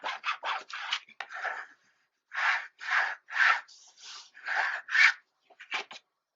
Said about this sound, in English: Burnish.